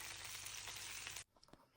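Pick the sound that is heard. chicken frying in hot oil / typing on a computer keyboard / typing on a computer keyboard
chicken frying in hot oil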